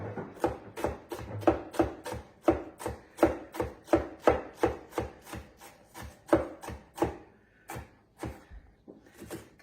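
A knife chops through a medium-sized onion on a cutting board in a steady run of close, crisp thuds, about two per second, thinning out toward the end as the last pieces are cut down.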